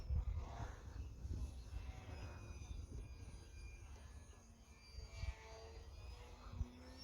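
An E-flite Eratix RC airplane tumbles through 3D aerobatics. Its small electric motor whines and surges in pitch with quick throttle changes, faint and somewhat distant, over a low background rumble.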